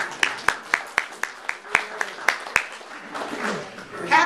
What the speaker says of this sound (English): Let's clap for Mary.